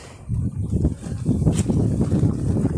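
Gusty wind buffets the microphone in low rumbling bursts by a river, rising and falling over a few seconds with no talk.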